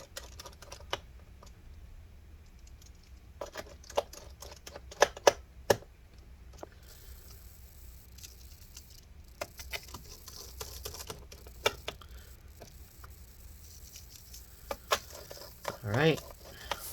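Small screws driven back into the case of a 2012 13-inch MacBook Pro A1278, faint scattered clicks and ticks against a quiet room, with brief sharper taps and light handling noise.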